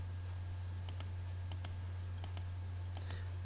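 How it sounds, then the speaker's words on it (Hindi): Computer mouse clicks while drawing lines in AutoCAD: crisp, close clicks arriving in four quick pairs at a steady pace over a constant low electrical hum. "क्लिक की आपको आवाज़ आ रही होगी।"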